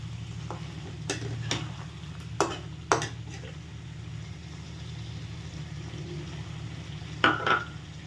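Chicken pieces for a home-style roast land in a pan with ripe tomatoes and are stirred, giving a few sharp utensil knocks and scrapes over a soft, steady frying hiss and low stove hum.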